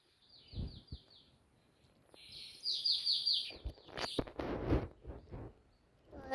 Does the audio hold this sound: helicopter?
no